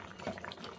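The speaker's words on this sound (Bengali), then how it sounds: "এরকম ঝোলটা ফুটে গেছে, মাছগুলো দিয়ে দিলাম" Fish curry broth bubbling at a low simmer in a pot, a soft continuous burble with small irregular pops, faint and close, with no talking.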